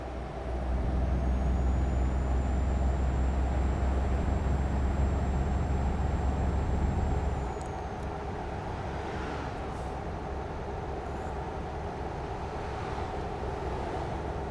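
A truck hauling a lowbed trailer in Euro Truck Simulator 2, with a loud steady engine drone and a faint high whine that shifts down partway through, then a lighter continuous rumble of driving.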